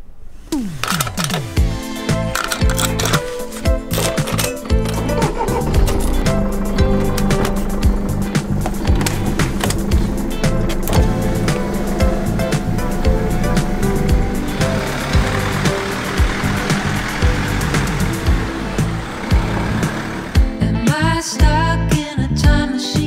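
A camper van driving off on a road in Turkey, with steady loud engine and road rumble lasting throughout and no voices.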